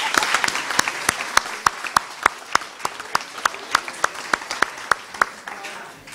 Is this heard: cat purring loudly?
no